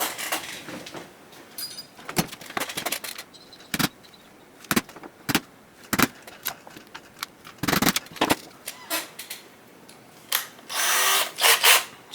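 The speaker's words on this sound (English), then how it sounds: "we'll just fast forward past this bit while I drill these holes" A power drill boring holes in a sheet of high impact polystyrene, heard as a run of short, sharp whirring bursts with brief pauses between them, fairly close and with no talking.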